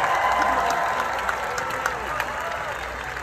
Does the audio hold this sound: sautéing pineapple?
no